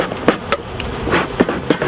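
Honey bees buzz around the edge of a hive box, with brief close-up hums rising and fading as individual bees fly past, set against a low background hum.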